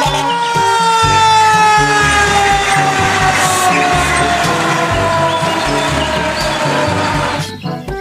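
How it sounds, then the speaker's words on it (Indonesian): A toy fire truck siren wails continuously in a steady electronic tone, loud and close, with a rhythmic clattering beat underneath, cutting off at the end. "Yang ini ada mobil pemadam kebakaran."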